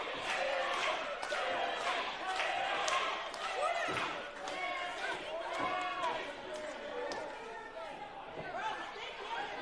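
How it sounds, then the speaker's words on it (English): Wrestling crowd at a Johnstown independent show cheering loudly for Slammin' Sammy, a dense continuous roar of voices with shouts and claps, broken by sharp thuds, with commentary talk over it. "listen to this Johnstown crowd get behind Slammin' Sammy"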